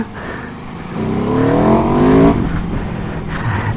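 An Aprilia RSV4 1100 Factory motorcycle accelerating hard as traction control intervenes, its engine note rising in a loud, close roar, then abruptly cutting and easing off, with no talk.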